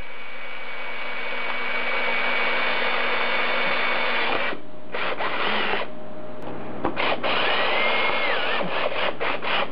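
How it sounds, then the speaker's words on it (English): A power drill whines loudly and continuously, drilling out stuck metal pieces on a 1976 Mazda RX-5 Cosmo, then cuts out and restarts in several short bursts toward the end. "Sometimes they get stuck and you have to drill them out."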